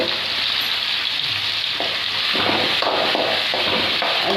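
Whole spices such as cardamom frying in oil over a low flame for chicken saaru, a loud, close, unbroken sizzle with a few light stirring scrapes toward the end and no speech.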